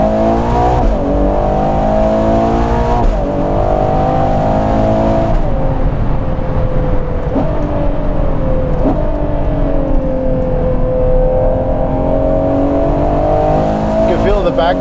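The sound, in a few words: Ferrari Purosangue being driven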